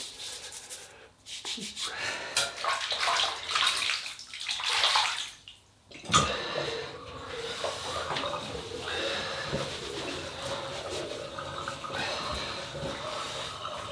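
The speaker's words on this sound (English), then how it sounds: "So we'll wet the brush now." Running water wets a shaving brush for a Merkur 43c double-edge razor shave with triple milled soap, swishing and splashing close by in bursts, then a steadier rinsing flow with gurgles and rubbing.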